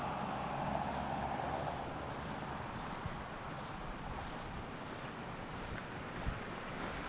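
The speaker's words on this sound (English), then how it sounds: "there's water coming out of the pond right down through there, running into the stream" Water pours from a pond through a nearby culvert and runs down into a stream, a steady close rushing wash that continues without pause and with no talking.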